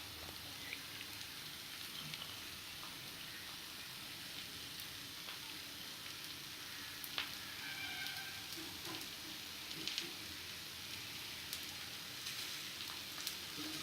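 Neer dosa, a thin rice crepe, cooking in a covered pan on a gas stove, giving a steady, faint, close sizzle with occasional tiny pops and crackles.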